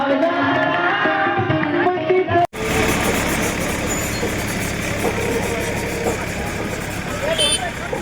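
A tractor engine runs and rumbles steadily at an outdoor village gathering, partly masked by loud crowd noise and people talking over it.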